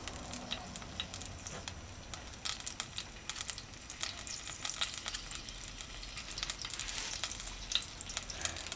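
Steady crackling sizzle of food frying in hot oil in a frying pot on high heat, continuous and fairly close, with scattered pops and spits throughout.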